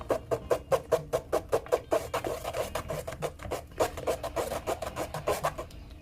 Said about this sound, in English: we're gonna strain it. So grab yourself a spoon and you're gonna mix